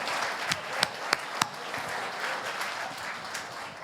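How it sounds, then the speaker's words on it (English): Audience applause at a chamber of commerce gala in Stillwater, a short burst of steady clapping from a roomful of people with a few sharp, close claps standing out near the start. "So let's give ourselves a round of applause."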